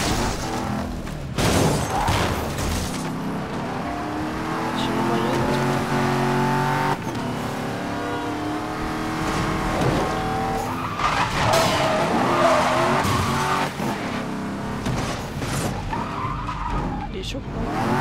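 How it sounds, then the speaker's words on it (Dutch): A Porsche in the Need For Speed Most Wanted video game drives and skids, with a sustained tire squeal and engine roar over continuous music, while people talk now and then. "Nou, dan gaan we maar met de Porsche rijden."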